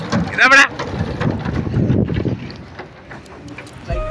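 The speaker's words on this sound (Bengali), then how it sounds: "নৌকায় চড়ে নদীটা ঘুরে দেখলাম" A small boat moving on a river with wind buffeting the microphone and voices talking nearby.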